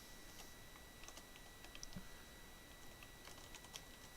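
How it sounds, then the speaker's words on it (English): Faint, quick keystrokes on a computer keyboard, irregular clusters of light clicks and taps in a quiet room, no voices. "And I'm just going to type them out."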